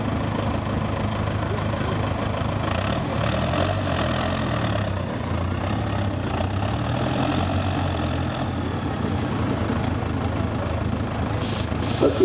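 Mud bog truck at an outdoor mud bog event, its engine said to come from a bobcat or backhoe, idling steadily at close range with a low, uneven rumble throughout, no talk over it.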